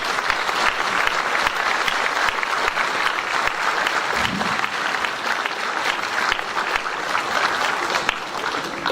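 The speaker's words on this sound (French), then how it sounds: "Merci de bien vouloir les applaudir à nouveau." Sustained, dense audience applause fills a municipal New Year's greetings ceremony in Vieux-Condé, steady and close throughout with no break or fade.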